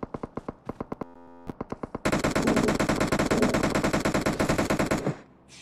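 Rapid automatic gunfire in a shooter video game, starting with short spaced bursts and then a long sustained loud volley of shots before it cuts off, with no speech.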